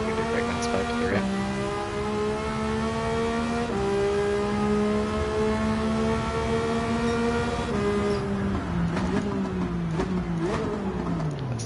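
In Gran Turismo 7, a race car engine screams at high revs, reaching about 10,500 rpm, and holds a loud, steady whine that climbs and drops with each gear change.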